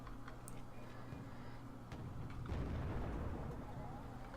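In a video game battle, a tank gun booms as a deep, rumbling blast that swells past midway, with a few sharper cracks scattered earlier, all under a faint commentator's voice.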